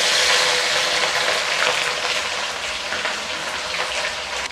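Garlic ginger paste hits hot oil in a pan, a loud dense hiss that gradually settles into a steadier, slightly quieter sizzle.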